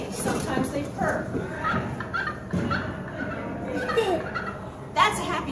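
A person imitates a turkey's soft purr with a low rolling trill, repeated several times alongside other voices and talking nearby.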